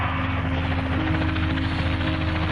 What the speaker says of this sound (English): I did not picture myself leaving in the helicopter.